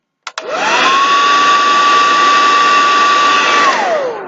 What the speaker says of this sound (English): Now we're going to do the 1, 2, 3 with the hairdryer.